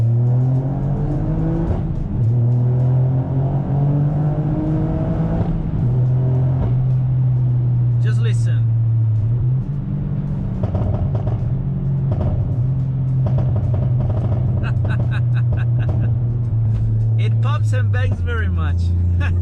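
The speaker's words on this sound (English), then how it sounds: "I like this new exhaust." A tuned Toyota GR Yaris's aftermarket exhaust drones loudly as the car drives through a tunnel, with occasional rises in revs and some crackles, under steady talking.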